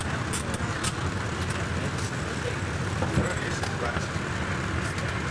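A tour bus rolls along near Hoover Dam, its steady engine and road rumble droning throughout with faint rattles and clicks, while people talk over it.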